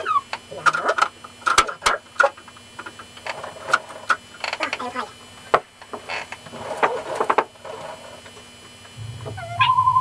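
Several short meows scattered among clicks and mechanical ticking, moderately close, ending with a longer electronic-sounding tone.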